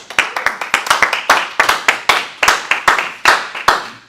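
Hand clapping at a church teaching session, a small group clapping in a fast, uneven rhythm of sharp, close claps for a pastor, with no talking.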